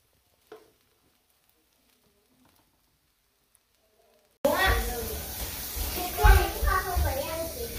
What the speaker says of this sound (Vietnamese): Đây mình sẽ chiên cơm nha cả nhà